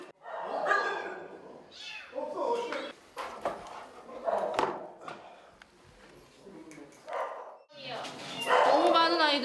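Dogs barking and yipping at an animal shelter in Jeju, several animals close by, with whimpers and overlapping voices in a busy, echoing space.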